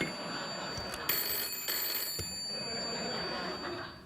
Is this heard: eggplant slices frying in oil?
no